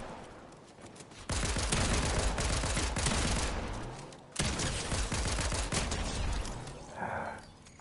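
Sustained bursts of automatic gunfire in the video game Fortnite, loud and dense, running in two long stretches with a short pause between them, and a voice briefly heard near the end.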